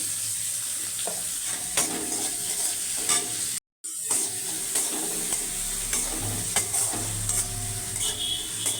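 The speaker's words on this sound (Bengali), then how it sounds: "জিরে শুকনো লঙ্কা তেজপাতা ফোড়ন দিয়ে পেঁয়াজ দিয়েছি। পেঁয়াজ দিয়ে একটু ভেজে নিচ্ছি।" Onions frying in hot oil with cumin, dried chili and bay leaf, a steady sizzle broken by occasional stirring scrapes and one brief dropout midway, with no voices.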